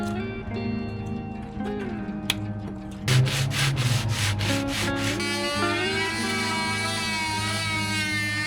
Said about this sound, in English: Once the paint was removed, it was ready to be sanded.